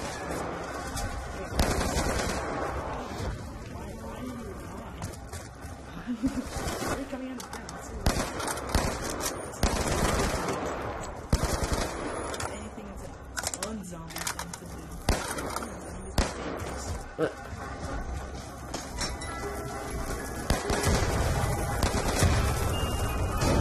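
Gunfire in the Call of Duty: Black Ops II video game, with dense bursts of shots and rapid fire running throughout amid game effects, while players talk over it.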